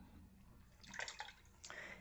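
Worm compost tea poured onto a potted plant, a soft trickling splash of liquid with a couple of brief bursts, faint and close, with no talking.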